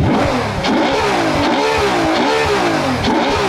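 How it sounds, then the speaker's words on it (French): Ferrari F12 Berlinetta V12 heard from the front, its intake howling loud and close as the revs swing up and down in repeated surges, with no voices. "Il y a un bruit, il y a un bruit d'aspiration"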